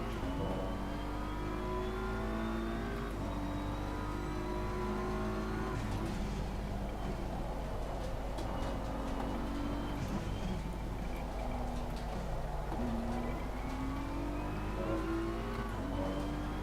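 Race car engine revving and accelerating in a racing video game, a steady loud mechanical drone with rising and falling pitch sweeps as gears shift, continuous throughout with no talk.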